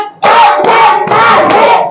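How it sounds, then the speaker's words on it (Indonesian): Pupils in a classroom clap together in loud, sharp, counted bursts, roughly four distinct group claps in quick succession, with young voices chanting along close to the microphone. "tepuk 1, tepuk 2, tepuk 3, tepuk 4"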